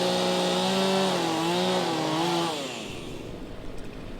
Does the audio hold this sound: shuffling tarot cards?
no